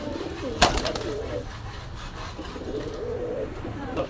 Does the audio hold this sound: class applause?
no